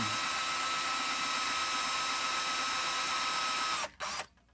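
A power drill whines loudly and steadily as a number 43 bit enlarges a hole, then cuts off abruptly near the end, followed by a brief second burst and quiet.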